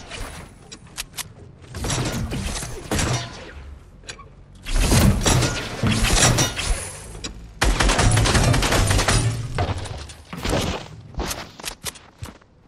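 Fortnite Battle Royale gunfire, loud bursts of shots and rapid weapon fire in several dense clusters, with mechanical clatter and footsteps between volleys, no talking.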